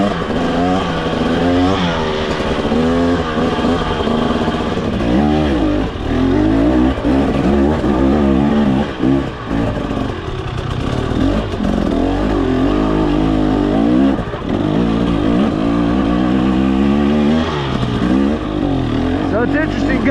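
A 2023 KTM 300XC two-stroke dirt bike engine climbing uphill, loud and close with constant revving and rising and falling throttle, over continuous rough wind and ride noise.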